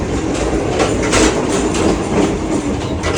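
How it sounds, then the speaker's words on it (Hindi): A sleeper-class passenger train runs on the rails near Noida, heard from inside as a dense, continuous rumble and rattle of wheels on track, loud and steady with no voices. "नोएडा के पास दौड़ रही है इस वक्त हमारी ट्रेन"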